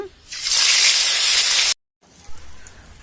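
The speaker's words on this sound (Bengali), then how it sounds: "এখন মাছগুলোকে ভেজে নিচ্ছে।" Fish frying in hot oil in a village kitchen, a loud sustained sizzling hiss that cuts off abruptly, followed by quieter faint crackling.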